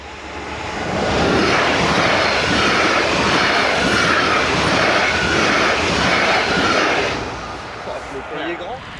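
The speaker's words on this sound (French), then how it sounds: "Ah, TGV." A TGV high-speed train rushes past a cyclist riding toward the Pévèle in France, a loud, steady roar lasting several seconds before fading, with a voice heard briefly around it.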